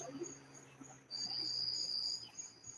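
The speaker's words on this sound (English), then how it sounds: "Hear the crickets. They're cranking up now." Crickets chirp at night: a faint, thin, high-pitched trill runs through, then swells louder and continuous midway against a quiet background.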